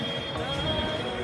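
A Delhi metro train rumbles along the rails with a steady high-pitched wheel squeal and low rolling drone, close and continuous.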